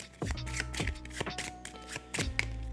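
Playing cards being shuffled for a World of Warcraft: Wrath of the Lich King board game, heard as several close, crisp riffling bursts in quick succession with short pauses between them.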